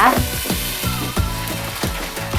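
Pork belly stir-fried with fermented tofu cooking in a covered pan, a loud continuous sizzle with rhythmic scraping and stirring strokes repeating about every half second.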